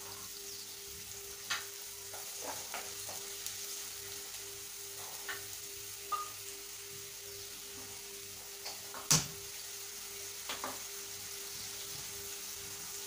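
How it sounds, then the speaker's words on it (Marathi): Onion sautéing in a pan for mutton curry, a faint continuous sizzle with sparse stirring clicks and one sharper knock near the end. "एक मिनिटभर कांदा छान परतून घ्यायचा आहे"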